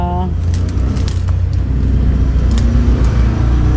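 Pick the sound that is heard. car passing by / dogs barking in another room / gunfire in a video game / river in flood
car passing by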